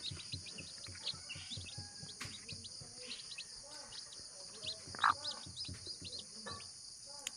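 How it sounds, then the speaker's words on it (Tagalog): Newly hatched Rhode Island Red chicks chirp faintly in short, scattered peeps over a steady high insect-like hiss, with a brief louder peep in the middle. "Ito sa Rhode Island to. Ito. Sisiyo to ng Rhode Island."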